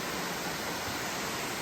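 Rushing water of waterfalls along Beaver Brook on Mt. Moosilauke, a steady broadband roar close by with no other sounds.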